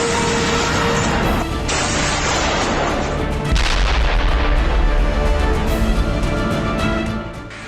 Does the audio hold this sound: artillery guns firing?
yes